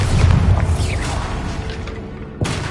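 A Bombarda spell explosion in Hogwarts Legacy makes a loud, deep boom at the start that rumbles and fades, followed by a second thump near the end.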